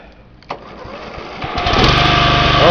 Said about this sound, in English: We're going to do a startup of the 14SE fully charged battery.